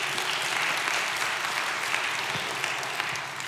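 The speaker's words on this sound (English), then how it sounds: "yeah, applause." A keynote audience applauds in a steady, dense wash of clapping that carries at even loudness through the whole stretch, with no voices over it.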